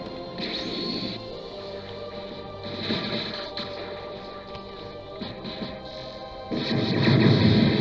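In the Dragon Ball Z Final Stand video game, a spirit bomb explodes with heavy booming crashes and rumbling impacts that swell louder toward the end.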